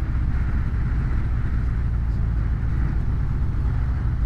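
A motorbike rides through town, its engine a steady, loud drone mixed with wind rush from start to finish, with no voices.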